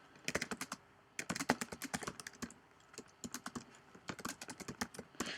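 Rapid bursts of keystrokes on a computer keyboard while writing a post in a WordPress editor, arriving in quick irregular runs with short pauses between them, close and clear with no one talking.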